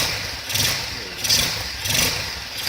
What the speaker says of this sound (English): we can start the bike up